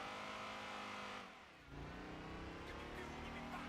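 Fiat Coupe engine revving in the racing game Gran Turismo 2, a steady mid-pitched drone that dips briefly as the revs drop, then climbs again, with a voice faintly present underneath.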